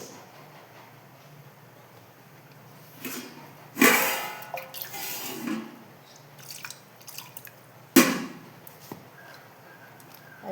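Liquid is poured into ground coconut paste for a buttermilk fish curry: a few short splashing pours at close range amid quiet kitchen handling, with no talking.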